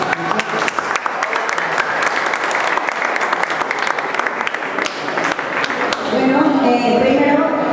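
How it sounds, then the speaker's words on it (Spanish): Conference audience applauding steadily throughout, a dense wash of clapping that swells slightly toward the end, with some talk mixed underneath. "Si tienen un aplauso para ir nutridos,"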